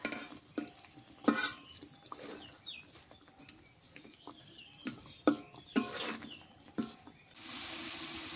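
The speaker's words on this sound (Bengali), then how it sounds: "বড় বড় কয় পিস বেগুন দিয়ে ভুনা করি" Brinjal and tomato stir-fried in oil in a pan, with intermittent scraping strokes and quiet sizzling, ending in a steadier, louder sizzle; fairly faint overall and without speech.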